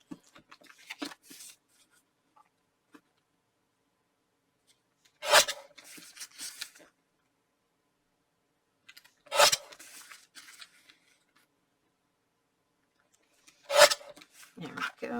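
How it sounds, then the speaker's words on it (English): A paper tag for a Valentine's card is trimmed in three separate bursts of close scissor snips and rubbing scrapes, each burst followed by near silence. "Let's get this tag trimmed down."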